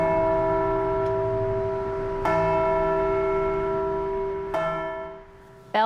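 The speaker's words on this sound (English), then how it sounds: "Bells rang out at Hartford's Urban Hope Refuge Church" Church bells ring out loud and resonant at Hartford's Urban Hope Refuge Church, several strikes spaced a couple of seconds apart, each leaving a long humming decay.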